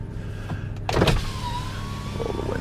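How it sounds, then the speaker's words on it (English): Electric power windows on a Ford Crown Victoria whirring down, a motor hum that rises sharply near the start and then runs steadily under the car's idling engine, close by with no talk. "Roll the windows down."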